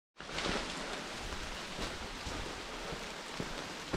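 Steady rain falls on a jungle trail leading to Diyaluma Falls in Sri Lanka, a dense, even hiss of drops that starts abruptly and continues without pause, with a few louder splats near the end.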